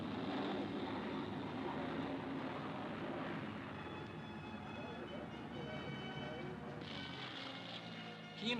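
Mustang fighters make ground-attack passes over Ohakea airfield during a 1955 National Air Day, giving a continuous, moderately loud engine drone that swells and fades slightly over the whole stretch.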